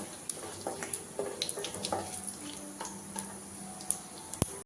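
A steady, faint sizzle of bay leaves and dried red chillies frying in oil, with scattered small pops and clicks, and no voices.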